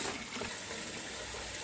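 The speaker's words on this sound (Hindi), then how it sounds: "चलिए, अब हम पहले झींगा मछली को पानी से धुल लेते हैं।" Raw prawns are swished and rinsed in clean water, a quiet close splashing and trickling that stays steady throughout the short moment, with no talking.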